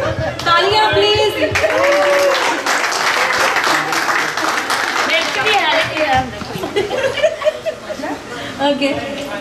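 An audience at a birthday party celebration claps, with applause swelling and fading, mixed with laughter, chatter and voices over the crowd.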